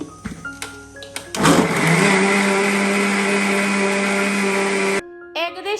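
A kitchen blender whirs through banana, milk, sugar and Horlicks, starting after a few clinks and handling noises, then running loud and steady for several seconds before cutting off abruptly.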